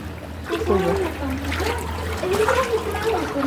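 Wading through knee-deep flood water on a village street in Bangladesh, with repeated splashing and sloshing footsteps heard up close as people talk over the moving water.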